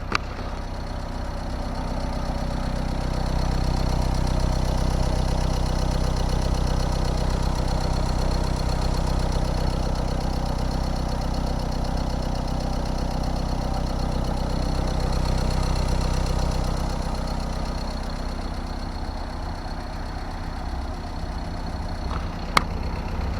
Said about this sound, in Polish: wydaje mi się, że silniczek pracuje prawidłowo